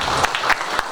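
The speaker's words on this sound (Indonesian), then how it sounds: "Tepuk tangan dong, mana nih?" Brief burst of audience clapping at a regional HIMPAUDI working meeting in Serang, steady and fairly close, lasting only a moment.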